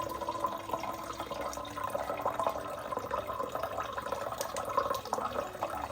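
A steady stream of water runs and splashes continuously at close range, a dense even wash of flowing sound with slight fluctuations and no speech.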